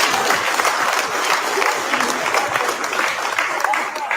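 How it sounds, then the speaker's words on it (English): Loud, close applause from a crowd at a political rally, a thick continuous patter of clapping that holds steady throughout, with some voices mixed into the noise. "Another round of applause, everyone."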